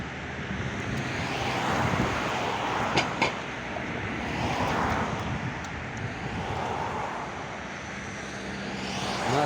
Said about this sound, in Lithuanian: Na, vėjas truputį yra